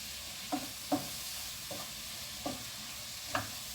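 Vegetables frying in oil in a pan, stirred with five distinct scraping strokes spaced about a second apart over a steady, close sizzle, with no voice.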